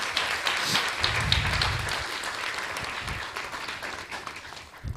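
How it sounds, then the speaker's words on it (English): Audience applause in a temple hall, a dense wash of many hands clapping at once, steady and moderately loud before gradually thinning toward the end, with no talk over it. "Let's give them a big round of applause."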